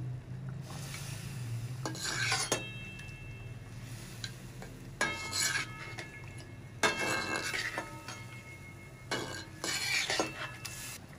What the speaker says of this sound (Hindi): अब तमाम चीज़ों को मिक्स करेंगे।